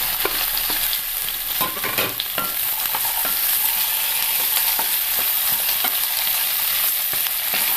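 Potato, carrot and beetroot pieces fry for a mixed vegetable mezhukkupuratti while a spatula stirs them, giving a loud continuous sizzle with regular scraping strokes against the pan up close, no speech.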